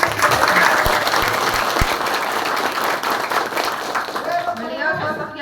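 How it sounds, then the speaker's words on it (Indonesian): Sustained applause from a crowd at a village gathering during a visit to resolve a land dispute in North Lampung, dense and steady throughout with a few sharper close claps, fading slightly at the end as a voice begins. "tepuk tangan untuk Pak Yannis"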